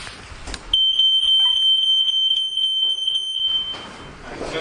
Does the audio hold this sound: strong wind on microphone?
no